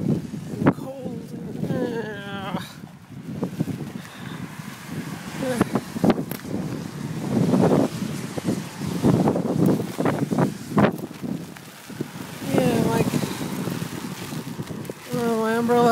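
Gusty wind with rain buffets the microphone outdoors in cold weather while people talk throughout, with rustling and rumbling under their voices.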